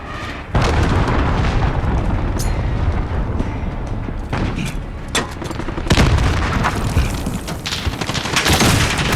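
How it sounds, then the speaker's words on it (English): Cruise missile strike in Call of Duty Modern Warfare: loud booming explosions and rolling blasts with scattered gunfire, sustained and dense throughout, several distinct heavy impacts near the start, middle and end. "Enemy cruise missile."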